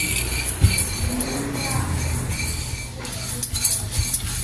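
Chana dal and fenugreek seeds roast in a pan, a soft dry sizzle with a spoon stirring and clinking against the metal, close by and steady, with no one speaking.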